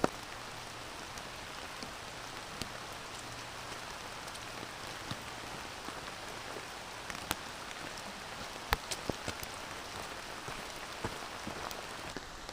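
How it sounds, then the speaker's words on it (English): Steady cold drizzle patters on a surface all around on the Appalachian Trail, with occasional sharper drops tapping nearby. "here in the rain"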